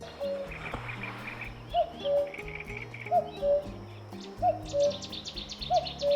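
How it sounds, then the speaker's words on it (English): A cuckoo calls its two-note song four times at a steady pace, with other birds chirping softly in the background, at an ornithological station on the Aras River in eastern Turkey. "It's the cuckoo that calls first."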